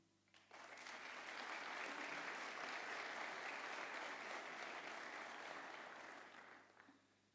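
A crowd applauds new students and teachers at the 2022 graduation ceremony of Verkmenntaskóli Austurlands, a school in Iceland; steady, dense clapping swells quickly, holds for about six seconds, then tapers off.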